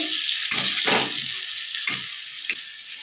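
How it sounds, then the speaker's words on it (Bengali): Onion paste frying in hot oil gives a continuous close sizzle, punctuated by a few soft scraping strokes of a spoon stirring the pan at irregular intervals. "পেঁয়াজ বাটাটা ভালো করে করে নেবো, ভাজবো যতক্ষণ পেঁয়াজ থেকে তেল ছাড়ছে"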